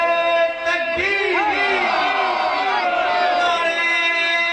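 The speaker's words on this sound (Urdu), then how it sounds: "اور اب فلک شگاف ناروں سے اپنے محترم مہمان کا استقبال اٹھ کر کریں گے" A large crowd at a religious gathering answers with loud, drawn-out chanted slogans in unison to welcome an honored guest, a sustained roar of many voices filling the hall.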